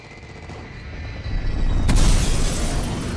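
Strafe run scorestreak in Black Ops Cold War, a rising roar building into a heavy rumbling explosion barrage that swells and then slowly fades, with no talking over it.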